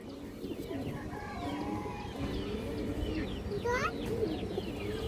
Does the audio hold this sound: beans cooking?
no